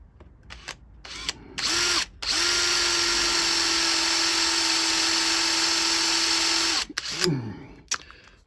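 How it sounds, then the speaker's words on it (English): A power drill whirs steadily for several seconds at a constant pitch after a couple of short bursts, drilling backwards into a brick hammer, then winds down with a falling whine. "Let's drill it backwards a bit"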